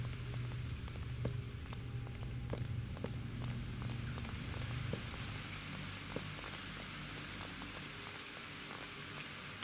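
Steady rain falls in the Calvino Noir video game, pattering with scattered sharp drips and faint footsteps, quiet and continuous under a low tonal hum.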